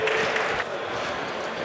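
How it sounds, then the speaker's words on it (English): Audience at a startup fair applauding as a speaker comes on stage, a steady, continuous wash of clapping heard from within the hall, brief and even. "Applause, please."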